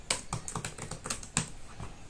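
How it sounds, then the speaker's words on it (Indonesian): Fast, loud typing on the hard keyboard of an Axioo laptop: a quick, uneven run of sharp clattering keystrokes, close and alone. "kalau misalnya kita cepet-cepet gitu ngetiknya,"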